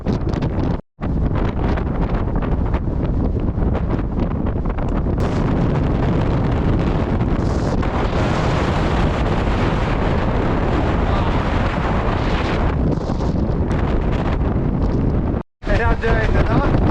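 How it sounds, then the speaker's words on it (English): Strong, gusty wind blows across open tussock grassland on a camping trip, roaring and buffeting the microphone almost without a break, loud and close throughout, with two brief dropouts. "it's just blowing like nasty as hell. It's so windy."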